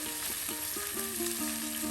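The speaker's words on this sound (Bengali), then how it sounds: "আজকে কিন্তু মাছ প্রথমে ভাজি করে নিল, এরপর রান্না করা হবে।" Fish fries in a pan, giving a soft, continuous sizzle and crackle at low volume, with faint clinks, and no voices.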